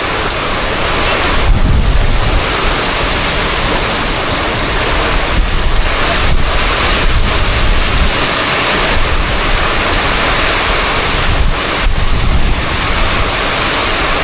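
Strong typhoon wind during Typhoon Basyang roars loud and continuous, a dense broadband rush with rain-like hiss and gusting surges, heard alone without talk.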